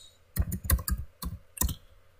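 Computer mouse clicking while drafting in AutoCAD, a run of five or six sharp, close clicks in uneven bursts, some doubled, heard alone in a quiet room.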